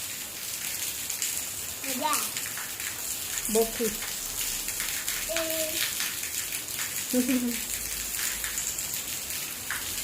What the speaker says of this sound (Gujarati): સાંજ થઈ ગઈ છે અને જો વરસાદ હજી ચાલુ જ છે